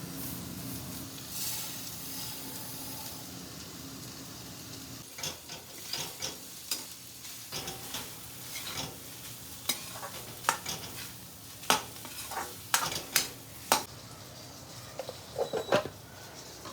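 Mawa (khoya) roasting in ghee in a pan, a soft frying hiss at first, then increasingly frequent spatula scrapes and knocks against the pan in an uneven rhythm, no one speaking.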